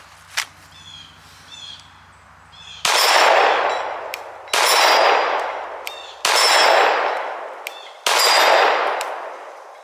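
Four loud, evenly spaced gunshots from a Palmetto State Armory Dagger pistol crack out at close range, each with a ringing decay, after a brief metallic click.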